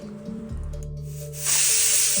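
A pressure cooker boiling jackfruit with water and salt vents steam, starting with a low bubbling rumble and then breaking into a loud, steady hiss of escaping steam.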